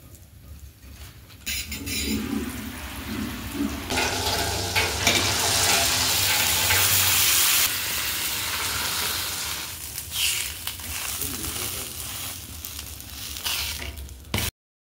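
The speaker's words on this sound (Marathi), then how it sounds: "इथे मसाला पावासाठी आपल्याला बटर टाकून घ्यायचंय" Butter sizzling in a hot pan for masala pav, a steady frying hiss that swells loud in the middle and eases off, with occasional stirring scrapes and no talking.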